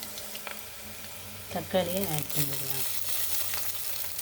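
Onions sauté in hot oil for an eggplant and mango tamarind curry, giving a steady close sizzle with occasional stirring scrapes, briefly overlaid by a voice in the middle.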